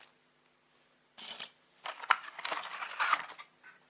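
Metal mounting bolts and hardware for a Noctua NH-D9-DX-3647-4U CPU cooler clink and jingle close up, a short burst followed by a longer rattling shuffle, with no speech.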